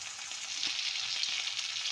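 Tomato, Kashmiri chili powder and other spices sauté for a rohu fish curry, giving a steady, fairly quiet sizzling hiss with faint stirring movements beneath it.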